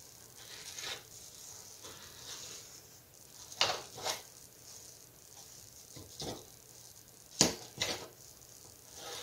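A knife cutting through the graham cracker crust of a strawberry cheesecake, with a few sharp, close crunching clicks and soft scraping between them over a quiet background.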